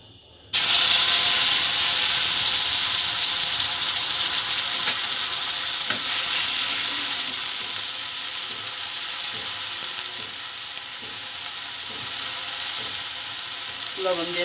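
A ginger, garlic, onion and cumin paste hitting a hot pan for a rui fish curry: a sudden loud sizzling hiss that stays strong, then eases slightly as it keeps frying, with no voices.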